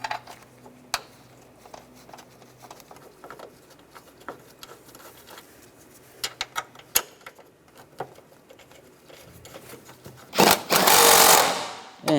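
A power tool tightens bolts on a 2003-2010 BMW X3 in a loud whirring burst near the end, after a stretch of scattered clicks and knocks from handling parts.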